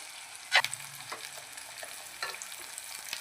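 Finely chopped onion sizzles in a pan while a spoon stirs it toward golden for a gram-chana fry, with a sharp scrape near the start and light crackling throughout.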